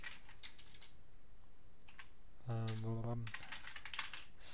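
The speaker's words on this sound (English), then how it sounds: "Not clicking, maybe tapping." Someone types on a computer keyboard at a desk with quick, close clicking taps in short bursts, briefly interrupted by a voice.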